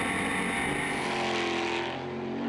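A big block engine on a racing boat working hard on water, a loud, dense, continuous roar that holds steady across the short stretch, close by and with no talk.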